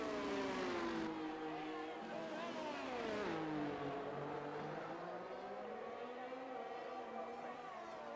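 Racing cars in an F1 video game qualifying session rev and accelerate with a loud, continuous engine whine whose pitch climbs and dips, with no speech.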